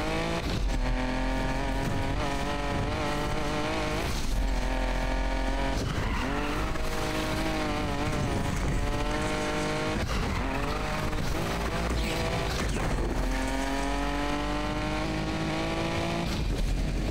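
Race cars in Need for Speed Unbound roar continuously at high revs, engine pitch climbing and dropping through gear changes, with tire squeal and skidding layered over a loud, dense game mix throughout.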